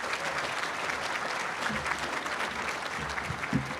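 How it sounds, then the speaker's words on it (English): A crowd applauds steadily at a softball hall of fame induction banquet, dense clapping sustained throughout at moderate distance, with a few scattered louder claps. "If we could get one more round of applause"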